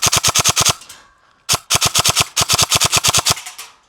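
An airsoft gun with a brushless motor, Type 4 barrel and new hop-up bucking and nub fires rapid full-auto bursts, close and loud: one burst of about seven shots, a pause, then a longer string of crisp snapping shots.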